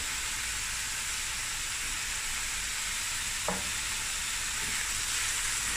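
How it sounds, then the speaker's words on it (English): Stewing beef, about 800 grams, frying with onions and chopped garlic in a pot for a curry, giving a steady, close sizzle and hiss with a brief clink of stirring partway through. "the onions are fried nicely and I've added 800 grams of stewing beef"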